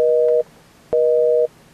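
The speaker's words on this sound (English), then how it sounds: "They'd get a busy signal." A telephone busy signal: two loud, steady beeps, each about half a second long, separated by a short silence, heard clearly on its own.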